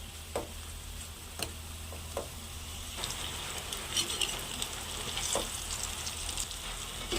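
Brinjal curry fries in a pan with a steady, close sizzle that runs throughout, broken by occasional light stirring taps and scrapes.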